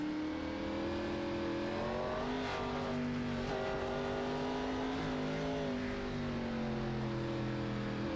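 Cup Series stock cars in a racing video game at the Charlotte Roval, engines droning with steady harmonic pitch that shifts as they brake and accelerate through corners, continuous and fairly loud throughout.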